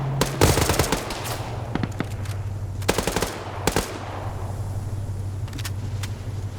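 Bursts of .50 cal machine gun fire in a video game, several short volleys of rapid shots over a steady low engine drone, loud and near with gaps between bursts.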